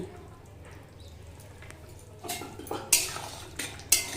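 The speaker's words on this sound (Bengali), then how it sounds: "একটু গুঁড়ো গরম মশলা ভালো করে মিশিয়ে নেব ঘি" Ghee and garam masala are stirred into a thick banana flower kofta curry, with soft scraping that turns into a few sharp clinks and knocks of a spoon against the pot near the end. There is no talking.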